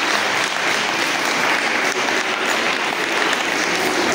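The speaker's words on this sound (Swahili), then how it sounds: "Wapigie makofi" Sustained audience applause at a Sunday school children's drama and culture competition, dense and steady clapping filling the space without a break and with no talk over it.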